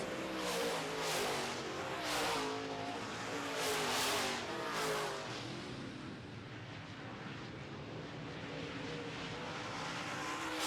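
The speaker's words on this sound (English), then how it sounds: "Ward Emery has checked out with about halfway to go in the race." Modified race cars roar around a track in a feature race, one of them on an all-new MB Custom chassis; engine noise swells loudly in passing waves over the first five seconds, then settles into a steady, more distant drone.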